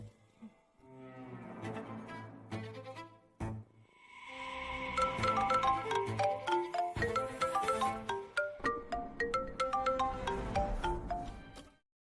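A phone ringing in an indoor drama scene: a bright melodic ringtone loops repeatedly and grows louder and denser, playing alone without talk for about twelve seconds.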